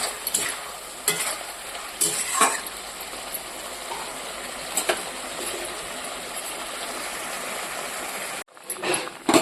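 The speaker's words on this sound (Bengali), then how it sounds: "আলুটা আর বেগুনটা ভেজে লঙ্কা লবণ হলুদ দিয়ে দিয়েছি এবার ভালো করে কষিয়ে নেব" Fried potato and eggplant sautéing with chili, salt and turmeric give a steady sizzle with recurring scrapes and clatters of stirring, close and without talk, before a brief cutoff near the end.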